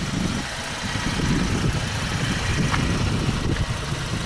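A Chevy Camaro's 3.6-liter V6 idles in a steady, even rumble, heard close and fairly loud throughout with no voices.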